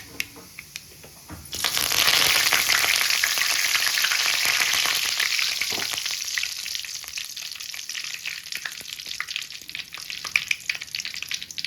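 Mustard seeds spluttering in hot oil in a kadai, a sudden dense crackling sizzle that starts after a quiet moment, stays loud and close, then slowly thins with scattered pops.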